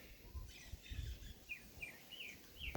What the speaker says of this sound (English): I hear some birds. Some parakeets.